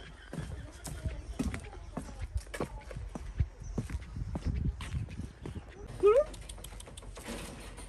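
Three young puppies scuffle and patter about on the ground with a run of soft scratchy steps and bumps, then one gives a brief, rising whine before more rustling movement.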